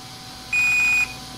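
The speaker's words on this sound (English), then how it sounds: "5 for them is a long beep." A single long steady beep, about half a second, sounds from a brushless ESC in an ARRMA Typhon 4x4 Mega V3 RC car, clear and close over a quiet background.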